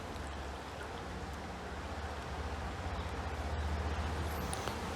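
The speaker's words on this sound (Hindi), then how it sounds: "अब हम पानी डालेंगे और देखेंगे" Water is poured into a pot holding a rose plant in well-draining soil, making a steady, close, soft splashing trickle that grows slightly louder toward the end, with no voices.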